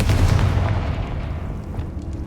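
A Confringo fire spell blast in the Hogwarts Legacy video game, a loud, dense low rumbling burst that rolls on steadily and slowly fades without a clear break.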